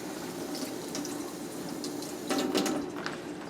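Hot homemade muscadine jelly pours into a jar to top it up, a steady close liquid trickle with a brief louder splashing gush near the end, no talk.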